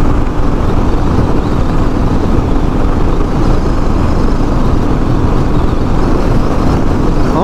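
Royal Enfield Meteor 350 motorcycle (2021) cruising in fifth gear at around 65–70 mph, a steady, loud engine drone mixed with heavy wind rush, continuous and unbroken throughout.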